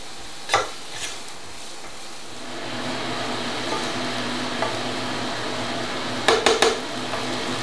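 Diced vegetables for risotto primavera sizzle steadily in a hot pan, with a few clinks of a utensil against the pan as they are stirred.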